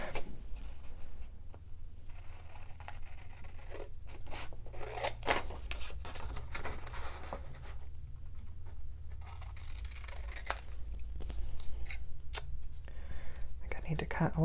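Scissors snipping around stamped paper for a die-cut craft project, a run of quiet, close crisp cuts and rustles in short bursts, with soft talk in between.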